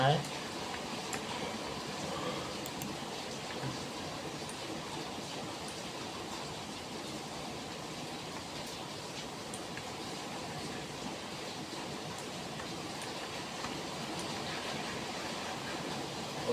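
Rain falls steadily outside a house, a continuous even hiss that stays level from start to finish with no breaks.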